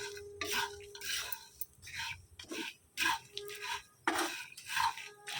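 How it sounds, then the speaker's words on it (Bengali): Flattened rice and peanuts being stirred and fried in a pan with a chilli tempering, a series of loud scraping, rattling strokes in bursts roughly every second, close by with no talk. "আর এখানে চিড়ে আর বাদাম ভাজতে বসিয়ে দিয়েছি।"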